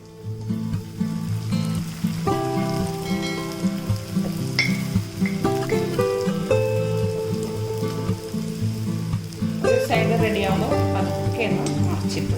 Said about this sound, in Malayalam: നമുക്കിത് എണ്ണയിലേക്കിടാം